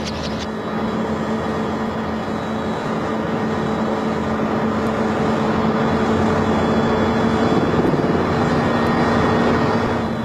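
A South African Air Force military helicopter strains to lift off with a heavy load of munitions in Angola in 1981, giving a loud, unbroken engine and rotor drone with a steady low hum.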